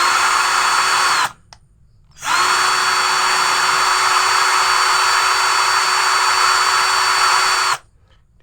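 Morris 16.8V 10mm brushed cordless drill running at speed 1, a steady loud motor whine with a clear tonal hum, stopping briefly for about a second before spinning up again, then cutting off near the end.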